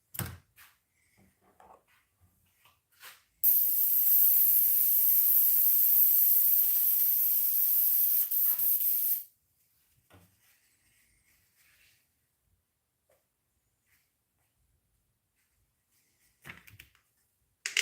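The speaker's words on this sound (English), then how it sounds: "The airbrush is starting to get clogged." An airbrush hisses steadily for about six seconds while a fishing lure is painted, with the airbrush starting to clog. The spray is a loud, continuous hiss with a sharp start and stop, and only faint clicks and handling noises come before and after.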